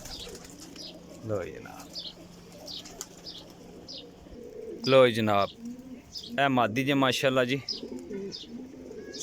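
Pigeons at a breeder's loft, including a Sialkoti pigeon, give soft coos with a brief flutter of wings while someone talks nearby.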